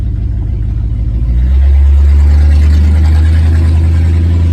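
A 1968 Lincoln Continental converted to Holley Sniper EFI fuel injection pulls away under throttle, its engine rising from a steady rumble into a loud, close, sustained surge of acceleration with no talk.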